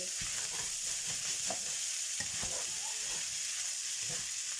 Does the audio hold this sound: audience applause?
no